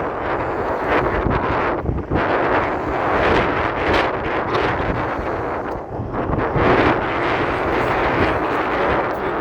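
A stiff, cold breeze buffets the microphone outdoors in a continuous, loud, rumbling roar that rises and falls in gusts with no voices.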